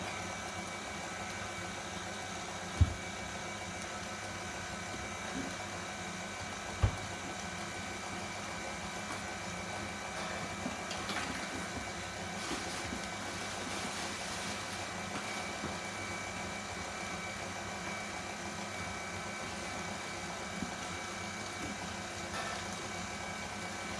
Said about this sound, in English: Just going to turn the speed up on the mixer now.